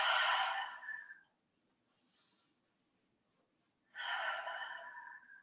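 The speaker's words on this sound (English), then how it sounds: "Take a couple deep breaths." Two slow, deep breaths taken while lying face down on the belly, head resting on the hands during a knee exercise. Each is a long, breathy exhale, and the two are separated by near silence with a faint short puff in between.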